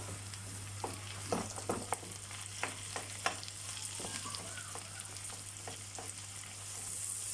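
Ground meat and onions frying together in a pan, a steady background sizzle broken by irregular scraping and stirring clacks from a utensil, with no voices.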